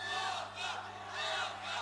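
A packed MMA fight crowd at a 66 kg bout roars wildly in loud, continuous waves of cheering and yelling that swell and ease without a break.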